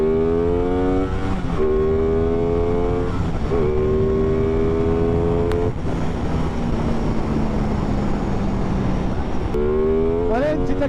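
Aprilia Tuono 660 motorcycle in full 70 kW version accelerating hard, engine rising in pitch through several gear changes with brief dips between, loud and close, with wind noise and a voice talking over it.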